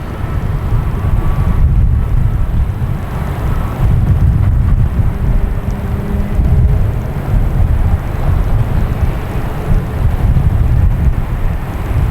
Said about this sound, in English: right now we have Aer Lingus coming in, and A330-300 coming in from Dublin